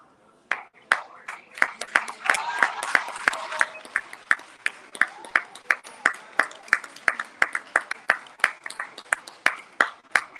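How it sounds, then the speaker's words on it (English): A small audience at a 2022 commencement ceremony claps steadily for about ten seconds, with sharp, distinct handclaps close by and a few voices murmuring early on. "Round of applause for her"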